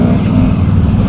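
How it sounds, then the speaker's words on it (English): A Can-Am Outlander 650 XMR ATV's exhaust roars loud and close as it wheelies through water in four-wheel drive, a continuous low throbbing drone with splashing wind-blown texture. "I love the way my exhaust sounds off the water"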